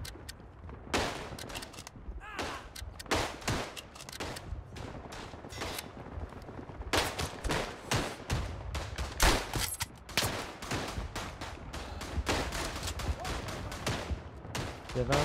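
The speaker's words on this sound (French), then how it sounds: "Il y avait un mec avec une batteuse là." Bursts of machine gun fire and other gunshots from the First World War trench shooter game Verdun crackle almost continuously, with sharp rapid reports at varying distances and no voice over them.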